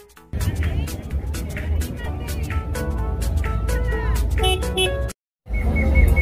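Repeated short honks from a car horn sound over a busy fair crowd with chatter, ending in a brief silence before the noise resumes.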